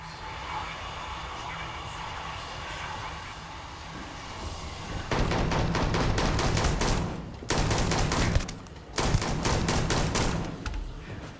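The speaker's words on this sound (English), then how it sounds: "Are you shooting?" Rapid gunfire bursts in the video game Starfield, loud and dense, starting midway through after a quieter stretch and continuing in several volleys with short gaps.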